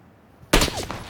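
A single sharp gunshot cracks out suddenly in the battle royale game PUBG: Battlegrounds, loud and close, with a brief ringing tail after quiet background.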